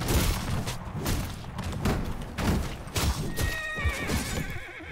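Horse in the video game Conqueror's Blade neighs and whinnies amid battle noise of hooves, thuds and booms, loud and close, with no speech.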